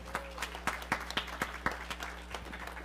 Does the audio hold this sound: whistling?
no